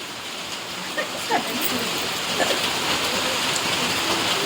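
Steady rain pours down outdoors, a dense even hiss of drops spattering on surfaces, with a few louder nearby splashes and a faint voice briefly audible beneath it.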